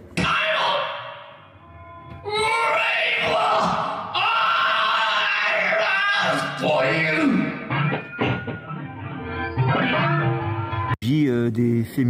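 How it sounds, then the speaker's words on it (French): Inarticulate cries, yells and moaning vocalizations from an experimental sound art performance, loud and close, shifting between strained shouts and wavering groans with brief pauses between outbursts. "c'est des cris inarticulés, des gémissements"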